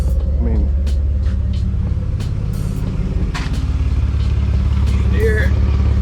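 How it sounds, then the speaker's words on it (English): A BMW E46 325xi idles with an exhaust leaking at the flange, giving a loud, steady low rumble with a rough, ticking edge that runs continuously, up close and without talk. "There's a really bad exhaust leak at the flange"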